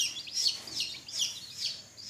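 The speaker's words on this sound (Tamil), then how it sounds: "இது சிறுவிடையும் ஃபேன்சி கோழியும் இருக்குது." Siruvidai and fancy chickens, a group of mixed fowl gathered together, give soft repeated clucks and chirps in a steady rhythm, fairly close and moderately quiet, with no talk over them.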